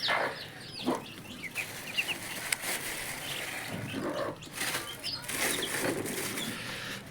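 Chickens cluck and call around a backyard coop as poultry feed mixed from wheat bran and water is handed out, with scattered wing flaps and a steady rustling background of moderate loudness.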